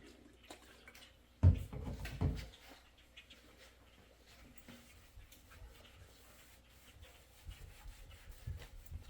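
A microfiber rag wipes dirt off a car's rear window in soft, quiet rubbing strokes, with a couple of firmer swipes early on and lighter scrubbing afterward.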